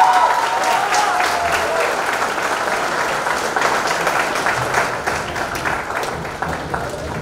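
A large audience at a Miss India 2020 celebration gives a sustained, dense round of applause for a proud mother, steady and loud throughout with a slight fade near the end.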